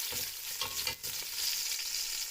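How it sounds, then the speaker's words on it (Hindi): Spices and vegetables for a mixed sabzi frying in a pot, a steady broadband sizzle with a few stirring scrapes, close and continuous with no talk. "ये अभी हमने सब कुछ भून लिया"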